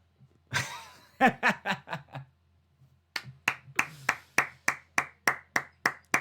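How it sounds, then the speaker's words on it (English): Slow, steady handclapping from a person or two nearby, about fifteen evenly spaced claps after a short burst of chuckling laughter, during a live wrestling watch-along. "A round of applause."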